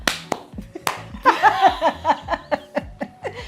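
A few people clap their hands indoors in an uneven, rhythmic run of sharp claps, mixed with light laughter and chuckling close by.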